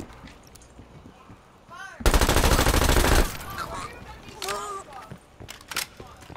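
Gunfire in Call of Duty: Black Ops Cold War: a loud, dense burst of rapid shots lasting about a second, set among game voices and scattered battlefield noise.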